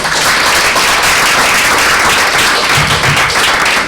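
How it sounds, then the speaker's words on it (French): Steady, dense applause from a comedy show audience, loud and close, filling the whole stretch without pause. "Est-ce qu'à présent vous pouvez applaudir pour vous-même?"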